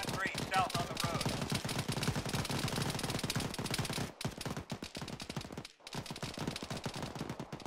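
Gunfire in a military shooter video game near an M113 armored carrier, sustained rapid automatic shots in a dense continuous rattle, briefly interrupted twice, with faint talk underneath.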